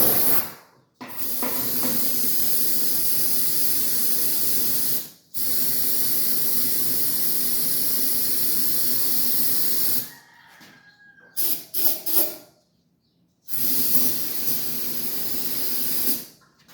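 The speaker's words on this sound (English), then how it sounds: "We'll spray a little in there." Several long, loud hissing bursts from an aerosol can of carburetor cleaner sprayed into a log splitter engine unused for two years, separated by short pauses, with a few brief sputtering squirts near the end.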